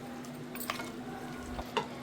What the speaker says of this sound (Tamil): எல்லா சிக்கன்லேயும் படுற மாதிரி நல்லா கிளறி விடலாம்